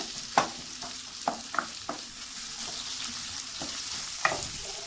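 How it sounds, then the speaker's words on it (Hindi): Chopped onions fry in a pan with a steady, soft sizzle while a spoon stirs them, making scattered scraping clicks. The sound is close and moderately quiet, with no one talking. "प्याज को अच्छी तरह जो है वो भून लेना है"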